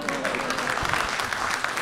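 Audience at a Hindi-Urdu mushaira poetry recital clapping, a short burst of dense, steady applause with faint crowd murmur and talk underneath.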